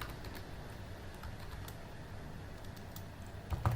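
Quiet clicking keystrokes on a computer keyboard as Python code is typed, a loose irregular patter of soft taps close by. It ends with a slightly louder knock.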